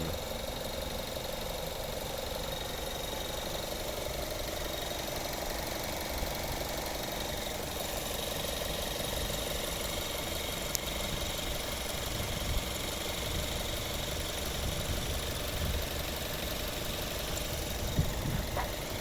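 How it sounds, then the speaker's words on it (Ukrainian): A 2008 Mazda 6 2.0 petrol automatic idles steadily and evenly throughout, a constant mid-pitched hum with faint ticking, recorded close with no talking. "Робота двигуна ідеальна."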